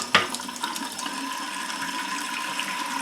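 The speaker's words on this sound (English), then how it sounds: "I'm going to turn my faucet on here in my sink, in my studio, and just let it run a gentle flow" A studio sink faucet left on at a gentle flow, water running in a steady, soft wash with a brief clatter near the start.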